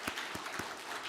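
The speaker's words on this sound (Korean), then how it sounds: "우리 하나님께 감사 영광 박수 올려드리겠습니다" A church congregation applauds during a Sunday Advent worship service at a university church, a brief burst of scattered hand claps with a few sharper individual claps standing out, moderately quiet in the room.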